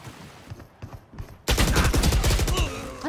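A loud burst of video game gunfire erupts mid-way, a dense, sustained volley of rapid shots following quieter, scattered sounds, heard up close without speech.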